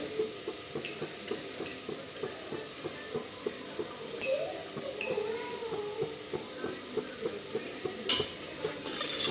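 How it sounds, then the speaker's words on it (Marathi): Tomatoes sauté in a pan for a mixed vegetable dish, with a continuous soft sizzle under rhythmic stirring scrapes and occasional clinks of a spoon against the pan. "आणि टमॅटोसुद्धा चांगला परतून घेणार आहोत"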